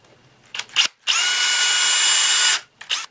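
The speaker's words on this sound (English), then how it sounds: "So now I'm taking a 3/32 drill bit" A power drill fitted with a 3/32-inch bit whirs steadily for about a second and a half, preceded and followed by brief bursts of higher-pitched spinning.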